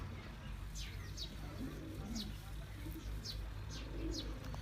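A pigeon from a breeder pair coos low and faint in a couple of brief phrases, while sharp bird chirps repeat above it over a steady background murmur.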